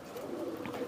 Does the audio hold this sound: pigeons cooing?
yes